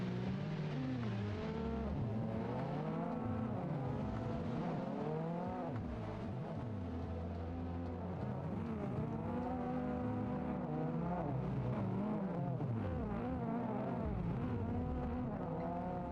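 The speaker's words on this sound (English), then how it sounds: "I can hear a BMW engine from the game" BMW car drifting in the Assetto Corsa racing game, engine droning and revving continuously with rising and falling pitch sweeps, loud and steady throughout with no talk.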